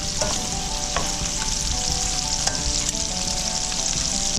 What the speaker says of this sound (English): Now the shrimp are starting to take color, so we're going to go ahead and just turn them all over.